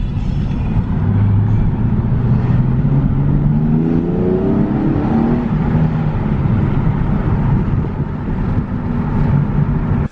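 A Nissan 370Z Nismo accelerates with a steady, loud engine roar that climbs in pitch, buried under heavy wind buffeting for about ten seconds, with no talking.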